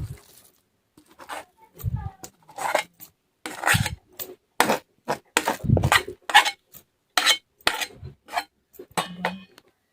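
A spoon scrapes and scoops cooked bhagar (barnyard millet) out of a pan into a large bowl, with repeated short rasping scrapes and clinks close by in a steady rhythm.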